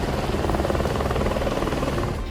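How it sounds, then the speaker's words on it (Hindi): Rescue helicopter flying over a Texas flood zone, its rotor throbbing as a steady, loud, dense drone that holds evenly throughout and thins slightly at the very end, with no voices. "अब हेलीकॉप्टर के जरिए राहत बचाव में जुटे लोग बाढ़ में फंसे लोगों तक पहुंच रहे हैं"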